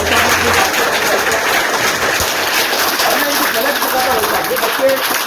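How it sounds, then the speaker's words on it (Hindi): A crowd of children at a government school in Udaipur claps together in a thick, continuous patter of many hands, sustained and fairly loud throughout. "एक बार ताली बजाओ जोर से।"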